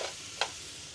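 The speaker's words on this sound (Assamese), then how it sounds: "মাংসখিনি অলপ সময় এনেকৈ ভাজি ল'লোঁ" Local chicken meat fries in a pan with a faint, steady sizzle, broken by one quick scrape of stirring partway through.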